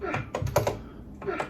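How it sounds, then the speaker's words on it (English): Keys clatter on a 1980s Macintosh Plus keyboard in a few loud, uneven bursts of clicky strokes, close by with a short pause between them. "I'm playing on the Mac Plus keyboard. This thing feels like... It's like loud."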